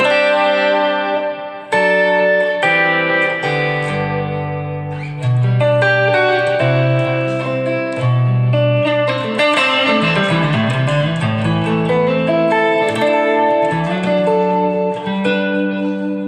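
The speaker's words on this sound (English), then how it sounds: "The reverb on it sounds good." An electric guitar plays chords and single notes through an amp with a spacious reverb tail, sustained and loud, with a brief pause early on.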